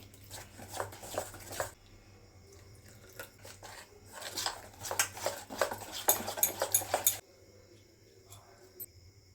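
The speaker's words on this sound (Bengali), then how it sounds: "অল্প অল্প জল দিয়ে একটা ব্যাটার রেডি করে নিচ্ছি" Spiced batter for chilli paneer is mixed with water in a bowl, giving faint, rhythmic bursts of quick tapping strokes in two runs separated by a short pause, over a low steady hum.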